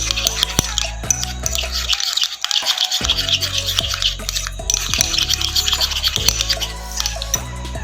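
Butter is mixed with red food colouring, giving close, uneven scraping and smearing strokes with short pauses between them and no speech.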